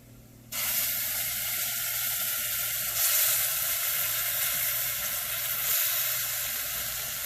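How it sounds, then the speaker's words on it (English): Tomato sauce hitting a pan of onions and chickpeas, a sudden loud steady sizzle and hiss that carries on with slight swells. "Now is the time that we add our tomato sauce, and this would be 3 tablespoons."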